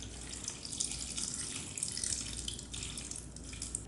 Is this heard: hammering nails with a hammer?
no